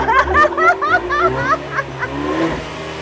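A Ford Mustang 2.3 EcoBoost engine revs in short blips, nearly buried under close, bright laughter and chatter from people standing beside the car.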